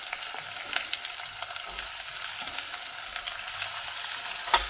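Chopped onions fry in a pan for egg kurma, giving a steady, fairly quiet sizzle with faint crackles and a few soft stirring knocks throughout.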